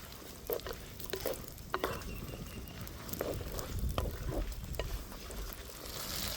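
Dried red chillies, coconut pieces and shallots fry in oil at moderate heat, a continuous crackling sizzle punctuated by sharp pops and stirring knocks, fairly close and without talk.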